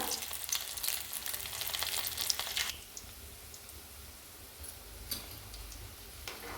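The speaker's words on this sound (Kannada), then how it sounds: "ಈಗ ಸ್ಟವ್ ಮೇಲೆ ಎಣ್ಣೆ ಕಾಯಿ ಇವನ್ನ ಡೀಪ್ ಫ್ರೈ ಮಾಡ್ಕೋಬೇಕು." Rolls deep frying in oil over a low flame, a dense bubbling sizzle for the first few seconds that then drops to a quieter, sparse crackle with occasional faint pops.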